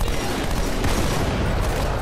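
Dense, continuous bursts of Halo 2: Anniversary gunfire fill the short clip, loud and chaotic with no pauses.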